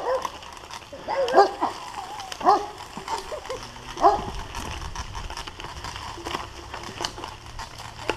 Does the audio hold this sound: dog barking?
yes